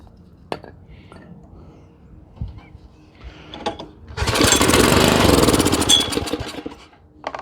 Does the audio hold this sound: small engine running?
yes